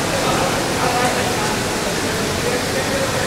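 Devis Falls in Pokhara during the monsoon season gives a loud, dense, unbroken roar of rushing water, steady and close throughout, with voices partly audible beneath it.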